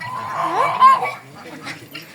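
Ducks at feeding time call near the microphone, a few nasal honks and quacks over close background sounds, with a voice speaking briefly.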